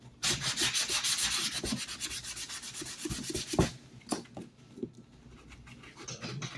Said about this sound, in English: Basically just sanding it off.